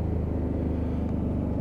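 A Honda NT700 Deauville motorcycle engine idles slightly high after new forks and tyres were fitted, giving a steady, close, even low rumble with no talk.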